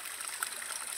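Creek water trickles over rocks in a steady, soft babbling stream, continuous and moderately close, with no voices.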